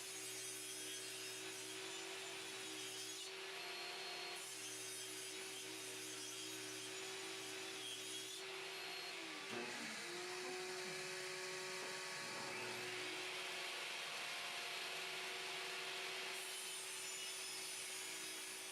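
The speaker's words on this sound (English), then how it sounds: "I don't have one, so I have to use my table saw." A table saw cuts notches into wooden boards, with a steady high motor whine running throughout, a blade grinding and biting through the wood in several passes, and the pitch dipping midway as the cut loads it.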